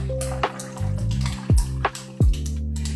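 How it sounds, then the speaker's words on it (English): Hot tea poured over ice into a pitcher: liquid streams and splashes with sharp cracking of ice, several distinct crackles standing out loudly over a steady pour. "I normally just pour it straight over ice like so"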